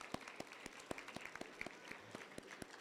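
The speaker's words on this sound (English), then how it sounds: "Let's give him a round of applause." Audience applause at a sixth-grade school awards assembly, distinct claps in an uneven scattered rhythm, fairly faint and distant in the hall.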